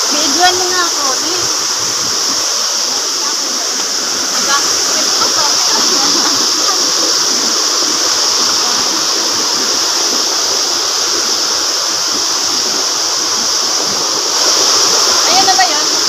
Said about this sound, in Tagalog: Dito na tayo sa Lambingan Falls.